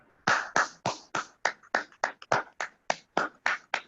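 Steady, evenly spaced claps ring out about fourteen times in four seconds, crisp and close, as applause honours a company's founder, directors and seniors at a corporate gathering.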